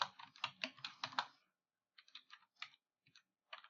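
Close, crisp computer keyboard typing in two bursts: a dense run of rapid keystrokes, a short pause, then lighter scattered clusters of key presses as a chart title is entered in a spreadsheet program.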